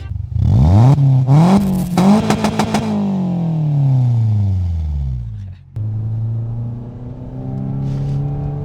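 A Peugeot 206 GTI engine revs up sharply in a few quick bursts, then winds down through a long falling whine before settling into a steady, loud idle rumble.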